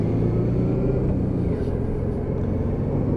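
Honda Deauville motorcycle engine rumbling steadily as the rider shifts up through the gears on a road ride, a continuous low drone close to the microphone.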